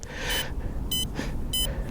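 An FW200 Pro RC helicopter beeps three times at a steady pace after being plugged in, short high tones over a constant low hum of background noise.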